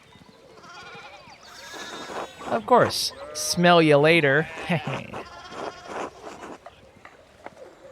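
Sheep bleat loudly in a few wavering calls in the video game Pentiment, mixed in with spoken dialogue from the game's characters.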